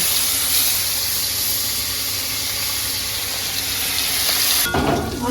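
Large prawns frying in hot oil give a loud, steady, close sizzle that runs unbroken, with a brief clatter of utensils near the end and no talking.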